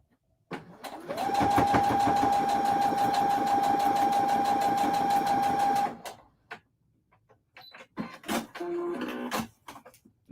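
A sewing machine runs a seam in one loud, steady burst of about five seconds, then falls quiet before a few short stitching bursts and light handling noises.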